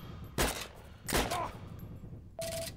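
Gunfire in the World War II shooter Heroes and Generals: three loud, sharp bursts of shots spaced about a second apart, with a quieter gap between them and no talking.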